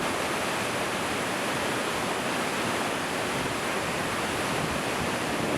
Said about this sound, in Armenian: Շաքիի ջրվեժը։